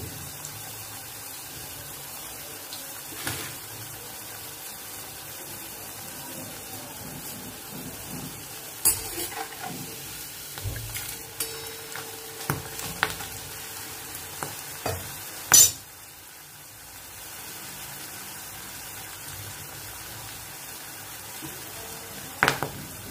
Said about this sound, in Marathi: आता दुसरी बाजू तळत आहोत.